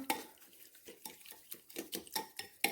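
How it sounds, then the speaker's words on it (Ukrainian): A whisk beats batter with sugar and salt in a bowl, a quick run of rhythmic clinks and scrapes against the bowl's sides, close and fairly loud. "І це все вінчиком розмішую"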